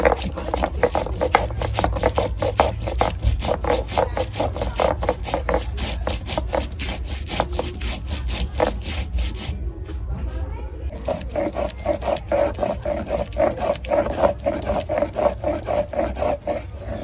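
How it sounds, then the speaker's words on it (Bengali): Ginger and cumin ground together into a paste on a flat grinding stone: steady, rhythmic scraping and rubbing strokes repeat close up throughout, with a brief pause midway before the strokes resume. "এখন একটু জিরে আর আদা বেটে নেবো একসঙ্গে"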